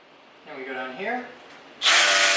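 A power drill bores a hole for installing shelving, its loud broadband whine kicking in abruptly near the end after a stretch of quiet talking.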